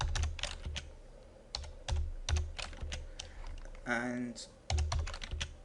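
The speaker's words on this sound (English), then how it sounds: "So I'm just going to go in here and just type in some random values." Fingers typing values into an Excel spreadsheet on a computer keyboard, giving steady clusters of close key clicks with a short spoken interjection partway through.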